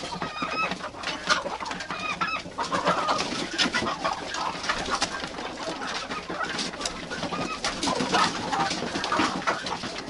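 Chickens eating winter feed, with soft overlapping clucks and murmurs from a flock close by, plus pecking and scratching, steady throughout with no speech.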